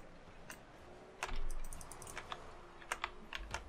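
Computer keys clatter in quick, irregular taps and presses during a Rocket League match. The typing is close and fairly quiet, with a louder burst of keystrokes partway through and no speech.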